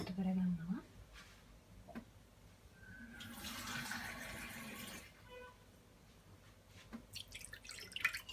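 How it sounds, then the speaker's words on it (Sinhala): Water pours into a dish for a Sri Lankan fish ambul thiyal being prepared for an air fryer, a brief gush of running liquid mid-clip with scattered drips and handling noises around it in a quiet kitchen. "දැන් මම මේකට වතුර ටිකක් එකතු කරගන්නවා."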